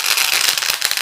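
Mustard seeds, cumin and curry leaves crackle and spatter in hot oil in a pan on a gas stove, a loud, dense stream of rapid pops and sizzles throughout with no talking.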